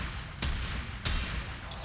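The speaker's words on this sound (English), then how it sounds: "I know you're shooting at me" Bursts of gunfire in the video game Warframe aimed at the player, two sharp loud volleys about half a second apart over a steady background of game noise.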